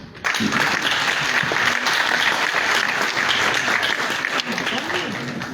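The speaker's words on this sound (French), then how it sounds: "ce n'est pas à vous d'applaudir." Applause fills a parliamentary plenary session of Guinea's National Transition Council, steady dense clapping that starts abruptly and holds loud throughout, with faint voices mixed beneath.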